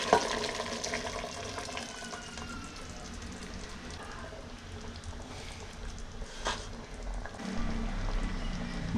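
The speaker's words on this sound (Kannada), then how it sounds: "ಮಸಾಲೆ ತೊಳೆದ ನೀರು" Spice-rinsing water poured into a pot of village-style mutton curry, a steady close splashing pour with a brief sharper surge partway through and no talking.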